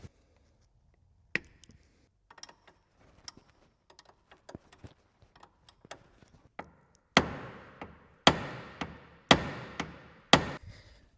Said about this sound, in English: So first of all, we're gonna remove the cotter pin.